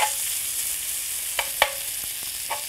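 Bacon frying in a pan until crispy, a steady close hiss of sizzling fat with a few sharp pops and light clinks of stirring.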